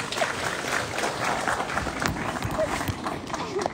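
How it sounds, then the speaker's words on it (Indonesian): Audience clapping at a Javanese wayang puppet performance, a brisk rolling patter of hands at moderate distance, mixed with crowd murmur and a voice speaking. "warga laras tepuk tangan."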